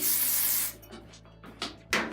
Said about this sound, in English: you're gonna spray it with dry shampoo